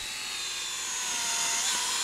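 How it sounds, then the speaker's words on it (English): Drill boring holes through glued 2x6 wood planks, a steady high-pitched whine that holds continuously and rises slightly in strain near the end, close and loud. "drills holes every 24 inches"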